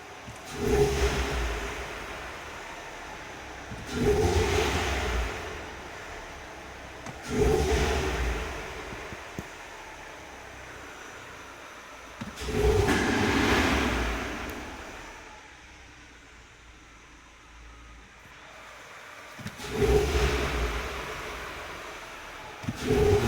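A Citroen C4 engine is revved up to the red line again and again, each climb cut off quickly by the fuel cutoff. About five separate swells rise and fall with short lulls between them, with no voices.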